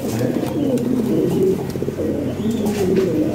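Lahori pigeons cooing close by, soft repeated low throaty coos in a steady rolling rhythm, with faint rustling around them.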